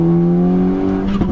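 A VW Golf Edition 30, front-wheel drive with a manual gearbox, pulls hard in third gear, its engine giving a loud, steady droning tone up close that shifts slightly at the end.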